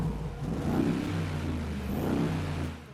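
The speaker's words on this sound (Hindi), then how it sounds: "अभी आपको इसका एग्जॉस्ट नोट चेक करवाते हैं।" Deep V8 exhaust rumble from a 2021 Mercedes G63 AMG in its normal mode, a low steady burble that swells slightly twice over a few seconds, heard alone without talk.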